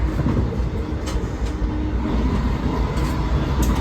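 A train at a railway station in the early-morning rush, a steady, close rumble of rolling wheels and carriage noise running continuously throughout, with no talking.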